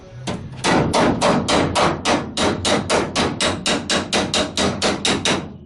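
Repeated hammer blows on a Volkswagen Kombi body panel being aligned, about eighteen loud, close metallic strikes in a steady, quick rhythm.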